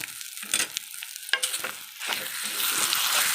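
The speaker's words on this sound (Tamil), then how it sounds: "இப்போ நான் கிண்டி கொடுத்துட்டு" Millet kozhukattai dough made with thinai and red rice flour is stirred in a pan, giving scraping strokes and soft clatter that turn into a steadier sizzle over the last couple of seconds, close and alone without any talk.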